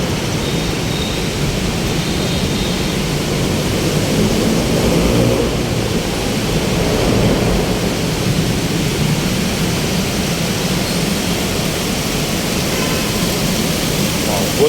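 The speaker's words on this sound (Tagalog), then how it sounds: "Lakas kasi ulan dito." Heavy rain pours steadily during a downpour near an MRT line, a dense, constant roar of broadband noise lasting throughout with no pauses, loud and close.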